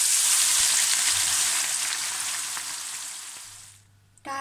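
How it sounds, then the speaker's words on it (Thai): Sliced shallots fry in hot oil in a pan, a dense, loud crackling sizzle that slowly eases off before cutting out, followed by a brief renewed hiss. "ก่อนอื่นนะคะเจียวหอมก่อน"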